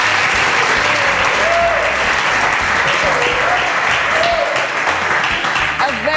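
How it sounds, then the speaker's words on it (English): A live audience at a Lokoja show with a band gives loud, sustained applause, dense clapping that fills the space with a faint melodic tone and voices mixed in. "A round of applause for yourself."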